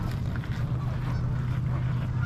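Geese honk repeatedly on cold winter water in Calgary, over a steady low rumble of outdoor noise, the calls moderately close and overlapping.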